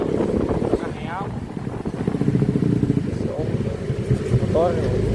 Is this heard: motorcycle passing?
yes